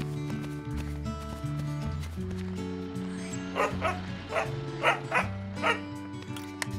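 Short yips and barks from a dog in the game Bloomtown: A Different Story, in a suburban street, several quick bursts in the middle over steady game music.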